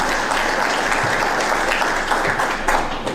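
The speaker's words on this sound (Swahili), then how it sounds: "Nipigeni makofi kidogo." An audience applauds at the close of a speech on a media perception survey, a loud, continuous burst of clapping from a roomful of people.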